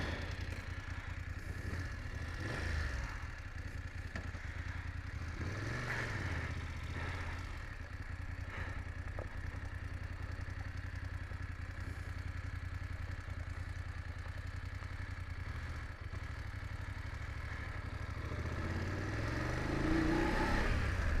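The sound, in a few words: BMW F850GSA motorcycle riding, engine revving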